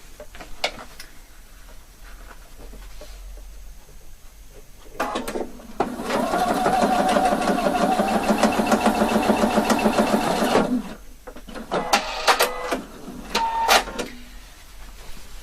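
A sewing machine stitches the center back seam of a shawl collar with a 1 cm seam allowance, a steady mechanical run of about five seconds between quieter handling clicks.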